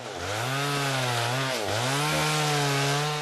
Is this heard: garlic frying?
no